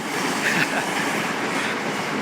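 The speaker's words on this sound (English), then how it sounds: "there goes the Shinkansen." Shinkansen bullet train passing in Tokyo, a continuous loud rushing rumble of rail noise that stays close and steady throughout, with no clear speech.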